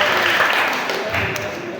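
Audience clapping rings out for a Quran recitation student in a mentoring session, a short steady patter of hands that fades slightly toward the end.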